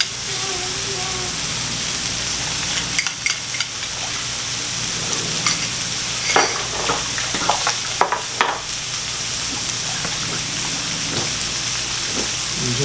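Butter sizzles loudly and steadily on a hot hibachi griddle while chicken and shrimp cook, with a constant frying hiss broken by several sharp crackles and spatters near the middle.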